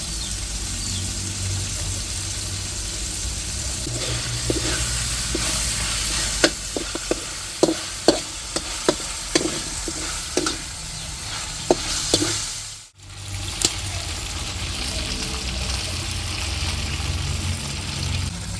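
Pancit canton noodles stir-fry with oyster sauce in a hot pan: a steady, loud sizzle with scattered sharp utensil clicks and scrapes, and a low rumbling hum underneath.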